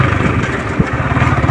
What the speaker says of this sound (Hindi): फर्स्ट टाइम दोस्त का बाइक लेके यहाँ पर ऑफ रोडिंग वाला होने वाला है